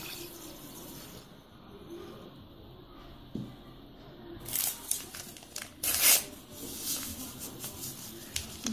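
Milk is poured into a cooking pot with sugar while preparing Kurdish lokma pasha dessert, a soft liquid splash and trickle rising in the second half over quiet kitchen background.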